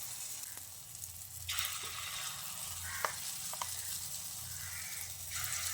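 Small spoonfuls of moong dal batter dropped into hot oil in a wok, frying as little fritters: steady close sizzling with bursts as each fritter goes in, a few light spoon taps.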